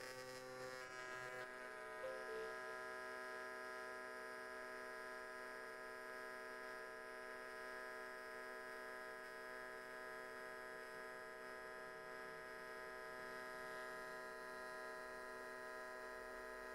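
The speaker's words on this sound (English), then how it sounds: "we just need to get a little bit of a fusion weld across this section here" A steady electric buzz and hum of fusion welding on an R34 GTT catch can, holding continuously throughout with no talk.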